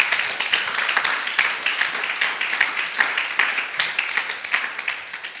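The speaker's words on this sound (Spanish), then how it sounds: "Denle un fuerte aplauso al Señor" Church congregation applauding for the Lord, a dense wash of many hands clapping steadily throughout, fairly loud and crowd-wide with no speech over it.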